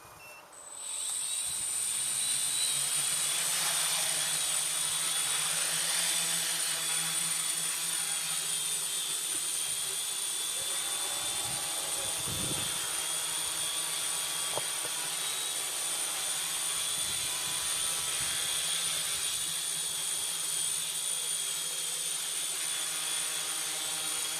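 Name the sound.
quadcopter drone flying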